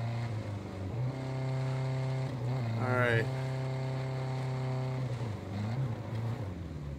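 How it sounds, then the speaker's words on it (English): Loud, rough engine drone of a Jeep with a broken exhaust in Ghost Recon Breakpoint, steady throughout with a brief rising rev in the middle, while someone speaks briefly over it. "I'm coming with a very loud Jeep. That seems to have broken exhaust system."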